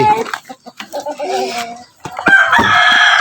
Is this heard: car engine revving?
no